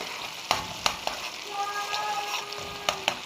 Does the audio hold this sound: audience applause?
no